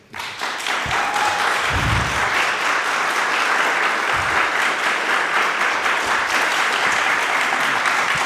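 Sustained applause from an audience at a city candidate forum, dense steady clapping lasting the whole stretch, loud and close, with a few heavier individual claps standing out near the start.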